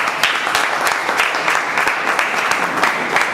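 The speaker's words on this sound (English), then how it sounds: "A big round of applause to Daksh Mittal." An audience claps loudly and steadily for Daksh Mittal at an event, a dense close round of applause that holds at even strength throughout, with no voices over it.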